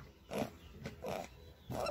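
A young pig gives three short, rough grunts spaced about evenly apart while its mouth is held open with special pliers for tooth cutting, close and fairly quiet.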